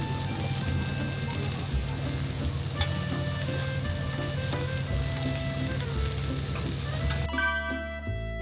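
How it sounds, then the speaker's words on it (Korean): Pajeon, a green onion pancake, frying on an iron griddle at a busy evening night market in Busan. A steady, close sizzle hisses for about seven seconds, faint tonal background sounds drift in, and a brief clatter comes near the end. "특히 철판에서 구워주는 파전은 정말 맛이 기가 막혔어요."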